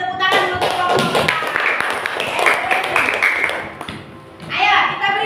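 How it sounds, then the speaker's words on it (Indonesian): Children in a fifth-grade primary school classroom clap their hands together, a dense burst of close, sharp claps mixed with thumps and chatter, fading briefly before a second short flurry near the end. "Kasih tepuk tangan dulu ke kelompok kita."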